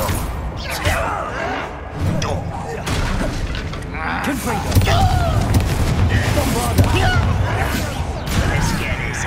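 A Confringo blasting spell goes off in Hogwarts Legacy, a loud booming explosion with crackling, shattering debris among continuous game combat noise that stays dense and full for the whole stretch.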